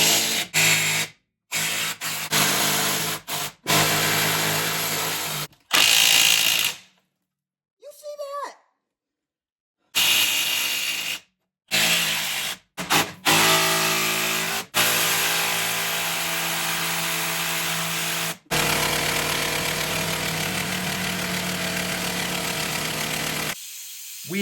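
Impact wrench bursts loosening rusty U-bolts under a GMC Sierra pickup, a series of loud, repeated rattling bursts broken by short pauses, with a voice talking in places.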